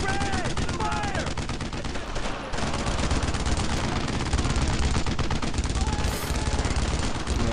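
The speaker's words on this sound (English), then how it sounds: "Give me a base of fire on that position. Actually, full assault on MG-42. Red, fire!" Sustained squad gunfire in the Brothers in Arms World War II shooter, loud continuous rifle and machine-gun bursts assaulting an MG-42 position, rattling steadily for several seconds with shouted voices mixed in.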